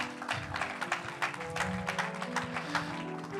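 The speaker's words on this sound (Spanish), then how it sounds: "Denle un aplauso al Señor" A church congregation claps together in response to a pastor's call, a brief patter of hand claps at moderate distance over a sustained musical tone, with no voices over it.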